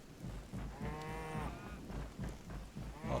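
Faint cattle moo once in the Hytale video game, a low drawn-out call over soft ambient game sounds and quiet rumbling.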